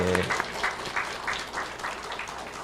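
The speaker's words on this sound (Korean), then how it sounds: "응원의 박수로 한번 영광 올려드리겠습니다" A church congregation at a Sunday afternoon service gives a short burst of clapping that starts right after a voice and fades into rhythmic, moderately loud applause.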